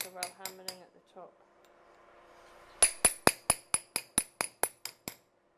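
Metal tool struck repeatedly by a hammer while being moved gradually across a metal sheet: a quick cluster of ringing taps, a quieter gap, then a steady run of about eleven loud, evenly spaced metallic blows close by.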